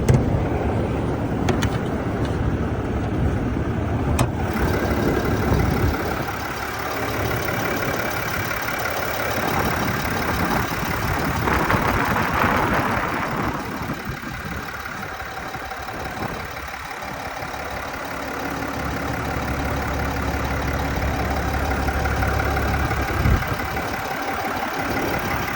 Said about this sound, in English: It's a very quiet diesel engine.